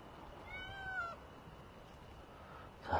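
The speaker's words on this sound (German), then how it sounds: "Jetzt habe ich hier gerade so viel Katzen um mich herum." Several curious cats meowing around a person, a drawn-out rising meow early on followed by quieter background and a short sharp meow at the end.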